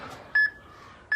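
A workout timer gives two short, sharp electronic beeps about three quarters of a second apart, clear and close over a quiet background.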